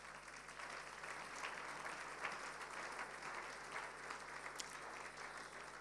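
A church congregation at a Sunday service claps together in steady, dense applause that stays even throughout, distant and faint in a large room.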